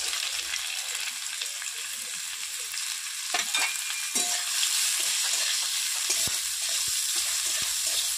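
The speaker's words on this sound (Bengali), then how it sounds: "গাজরটা একটু ভালো করে ভেজে নেব" Carrots with carom seeds frying in hot oil, a steady close sizzle with occasional stirring scrapes and crackles throughout.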